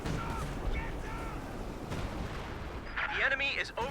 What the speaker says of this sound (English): There's even a barrage coming in.